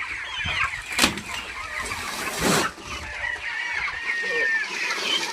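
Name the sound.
broiler chickens clucking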